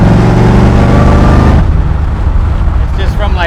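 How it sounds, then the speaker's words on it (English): A supercharged 1970 Camaro hot rod cruises in fifth gear at about 70 on the freeway, a steady low engine drone heard from inside that softens midway into rumbling road and wind noise. "Fifth gear, going about 70 on the freeway."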